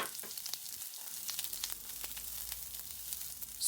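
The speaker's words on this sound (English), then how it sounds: "let's heat up the wok with some oil to stir fry the vegetables, starting with the onions first" Onions stir-fry in oil in a wok, giving a faint, even sizzle with light scattered crackles and no voices.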